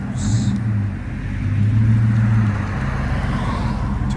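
A 2017 Ram 1500 Classic with a 5.7L Hemi V8 running Black Widow dual exhaust with 5-inch tips and no resonators, a deep, loud, throbbing rumble with a brief rev swell near the middle.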